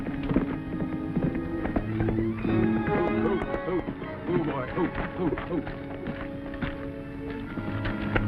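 Horse hooves clop in an irregular run beneath speech, with a voice talking over them and steady background noise throughout, in an old western TV episode.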